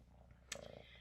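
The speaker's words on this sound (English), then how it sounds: "Belly, you come to purr for everyone?" A house cat purrs softly up close, a short low rumbling burst over faint background hum.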